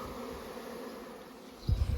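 Honey bees swarming near a village apiary hum in a faint, steady buzz, ending in a couple of low thumps close to the microphone.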